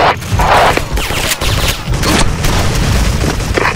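Booming grenade detonations mixed with rapid gunfire in the online shooter SF RUSH, several heavy hits in quick succession, loud and close throughout.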